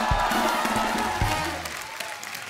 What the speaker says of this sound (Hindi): एक बार गुलशन जी के तालियां हो जाए।